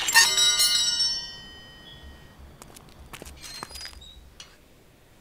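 A bright, loud bell rings out in a video game as it is put back on, ringing briefly and then decaying, followed by quieter clinks and light footsteps.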